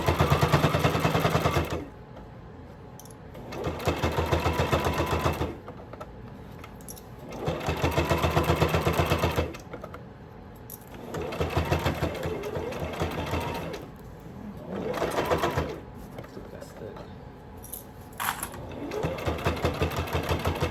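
A sewing machine back stitches across a clutch purse, running in loud, rapid bursts of about two seconds each, separated by quieter pauses, nearby and without talk.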